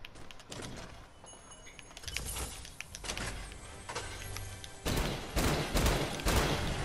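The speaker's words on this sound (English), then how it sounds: "Holy crap, who's shooting that?" Gunfire in Fortnite during a 50 vs 50 match: several sharp bursts and cracks of shots, some clustered into rapid volleys, loud and close, with a heavy salvo near the end and no talking.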